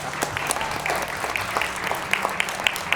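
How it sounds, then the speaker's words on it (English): Applause from a school board appreciation audience, a steady patter of scattered claps at moderate distance, lasting throughout without talk. "Please applaud."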